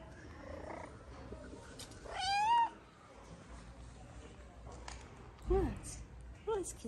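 Two friendly ginger cats, one giving a rising meow mid-clip and two shorter meows near the end, heard close among quieter background noise, with no talk over the calls.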